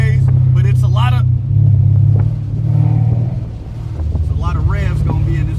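Mercedes CL550 with a modified exhaust revving, a deep rumbling drone that swells and dips through several throttle blips, heard close under someone talking over it.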